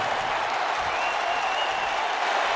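A Boston arena crowd in a WWE 2K wrestling game roars and applauds as a champion makes his entrance, a dense, steady wash of cheering with a faint tone rising through it.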